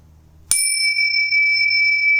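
A bicycle-style bell struck once with a sharp metallic ding, its bright tone ringing on and slowly sustaining for nearly two seconds in a quiet room, with no talking over it.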